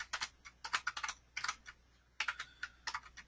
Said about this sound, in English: I'm just typing this out with characters, right?